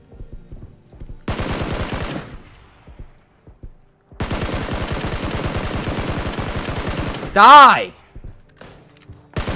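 Rapid automatic gunfire in PUBG, likely from an M249: two long bursts of quick, evenly spaced shots separated by short pauses, loud and close, with a brief shout just after the second burst.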